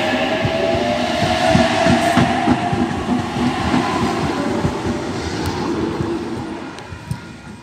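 A train departing from Bellambi rumbles and clatters along the rails, steady rhythmic wheel clicks over a loud continuous rolling drone, no voices.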